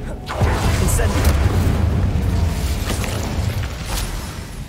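A fire spell, Incendio, erupts in the wizarding game Hogwarts Legacy, a loud booming whoosh of flame that roars on steadily for several seconds in a dense, close blast.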